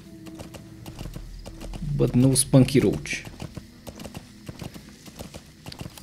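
Hooves of a horse with a big horn and scars clip-clop in a video game, a short cluster of steps in the middle of the stretch, while someone talks over it.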